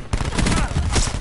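Heavy, booming shotgun blasts in Black Ops 4, fired in quick succession and loud throughout, with faint game noise and a voice underneath.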